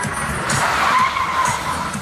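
A car's tires skid and squeal across pavement for about two seconds during a handbrake turn at a stunt driving show in Abbeville, 2014, loud and close, with engine noise underneath.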